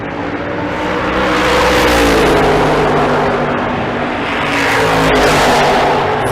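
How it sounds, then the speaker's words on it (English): A twin turbo LS drag race car launches and accelerates hard down the strip at Bandimere, its engine a loud, sustained roar that climbs steadily in pitch across the run, heard close without talk. "Twin turbo LS in the left lane."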